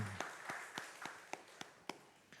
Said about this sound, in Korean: 우리 하나님 앞에 영광의 박수, 감사의 박수를 올려드립시다.